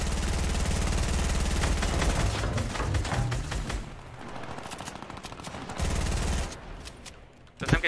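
Gunfire in a shooting video game: loud rapid automatic bursts in the first half, a quieter gap with scattered shots, then another burst and a final sharp blast, with a little talk mixed in.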